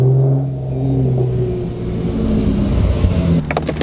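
A Hyundai Genesis Coupe with a 3.8 engine running on E85 idles loud and close, its deep exhaust rumble steady throughout with slight throttle swells, and a brief clatter near the end.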